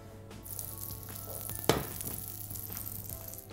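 Butter and peanut oil sizzling in a frying pan heated on high, a steady faint hiss with a sharp crackling burst partway through. No talking.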